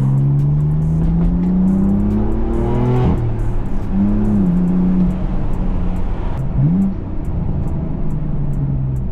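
A manual BMW M4 F82 driving on the road, its engine droning loudly and close from inside the car, the pitch climbing with revs, dropping at a gear change, then rising again, with steady road noise underneath.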